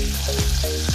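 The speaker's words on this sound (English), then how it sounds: "All the garlic is going into the butter." Garlic frying in melted butter for garlic bread, a steady close sizzle with faint stirring scrapes.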